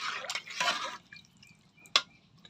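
Water poured into a pan of fried coconut, a hissing splash lasting about a second, then quiet with a few small drips and a sharp spatter near the end.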